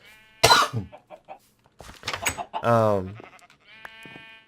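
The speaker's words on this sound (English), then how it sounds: "We got sheep living in here, chickens over there." A few short, wavering bleats of a Minecraft sheep, with a cough-like burst early on, separated by quiet gaps.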